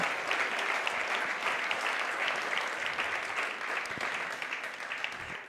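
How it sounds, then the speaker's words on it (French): A room full of people clapping steadily at a conference, a dense wash of applause that holds for several seconds before tapering slightly at the end. "je crois qu'on peut vous applaudir"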